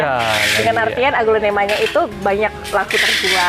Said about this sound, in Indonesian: Masya Allah, ini ada suara-suara lakban.